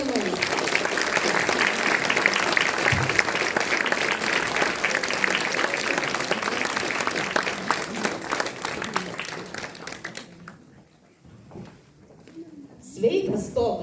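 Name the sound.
audience applause welcoming a soloist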